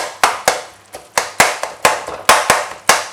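Sharp repeated strikes of a spatula against a pan, chopping roadside-style mushroom masala, loud and close, in a steady rhythm of about three hits per second with brief sizzling between.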